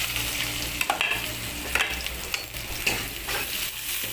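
Onions fry in oil for aloo bhindi, giving a steady close sizzle broken by several sharp stirring scrapes and clinks over a few seconds, without any speech.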